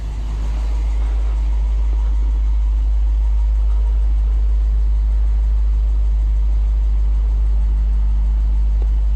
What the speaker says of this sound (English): the bass of the V8 is so heavy